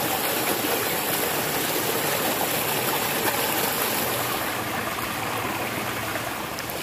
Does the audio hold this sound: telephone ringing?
no